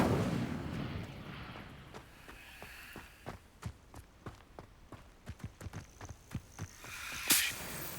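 A spell being cast in Hogwarts Legacy, followed by a string of sharp, evenly spaced crackling pops and thuds that build toward a bright flare near the end, fairly quiet overall with no talk.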